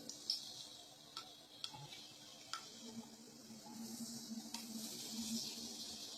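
Chopped onions hit hot oil in a wobbling, round-bottomed pan and a soft, steady sizzle swells and thickens, with a few sharp ticks and clinks from the pan along the way.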